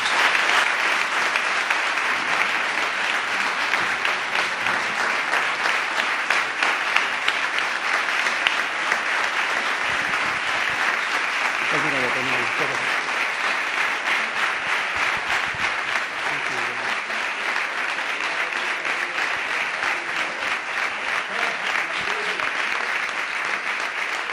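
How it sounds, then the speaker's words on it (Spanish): Sustained loud audience applause fills a hall after a talk on Al-Andalus and flamenco, dense and continuous throughout, with a few voices faintly mixed in. "Por eso ruego para ellos un enorme aplauso."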